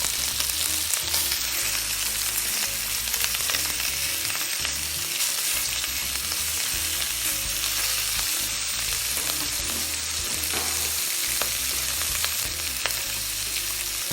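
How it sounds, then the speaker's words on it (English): Lamb chops searing in smoking hot olive oil in a cast iron pan, a loud continuous crackling sizzle held close for the whole stretch, with no voices over it. "Sear the lamb chop in the very hot, as you can see, smoking hot olive oil."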